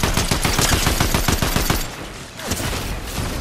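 Gunfire in the Fortnite video game: a loud, rapid burst of repeated shots for under two seconds, then a quieter, rumbling stretch.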